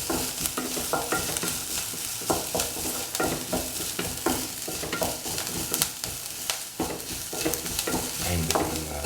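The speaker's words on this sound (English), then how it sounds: "The onions have to be sauteed until they lose their" Onions sauté in a pan for spicy chicken pasta soup, a steady close frying sizzle broken by frequent scraping and clattering stirring strokes, with no speech.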